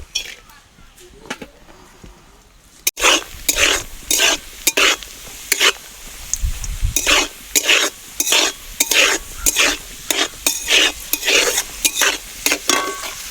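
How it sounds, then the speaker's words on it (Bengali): Cashews and raisins fry in hot ghee in a pan, a steady sizzle broken by brisk, rhythmic scraping strokes of a spoon that go on close and loud throughout. "এবার ঘির মধ্যে এই কাজু কিশমিশগুলো আমি দিয়ে ভেজে নেব"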